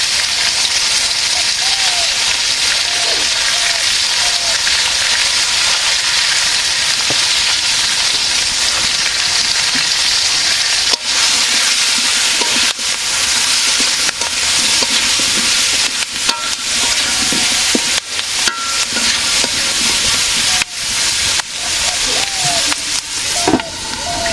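Eggplant and potato with coconut, for a rohu fish curry, sauté in a pan with a loud, close hiss and sizzle, broken by frequent scraping and clicking stirs that grow busier later on.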